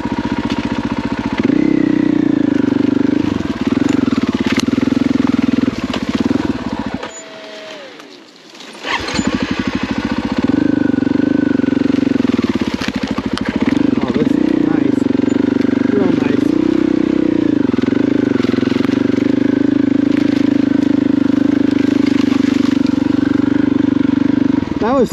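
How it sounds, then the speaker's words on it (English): A Husqvarna FE501 and two-stroke dirt bikes ride a trail near Idaho City, the engines droning loud and close almost throughout, with a brief drop-off partway in before the steady revving resumes. "Dirt bikes are so much fun."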